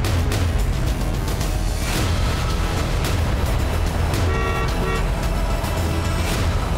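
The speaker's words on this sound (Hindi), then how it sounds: "एक गाड़ी की आवाज सुनकर हमने राहत की सांस ली।" A car approaches on a remote, desolate road, its engine a loud, steady roar that fills the whole stretch, with a possible brief horn toot.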